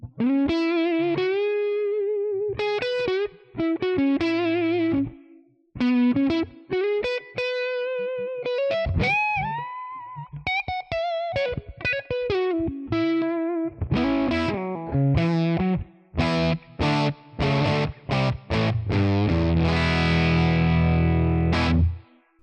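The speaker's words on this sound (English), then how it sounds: "Let's add some reverb and try some solo stuff with a neck pickup." Electric guitar solo on the neck pickup through an AMPG Gemini amp capture, drenched in reverb and distortion: sustained bent notes and fast runs, loud and close, playing alone without talk.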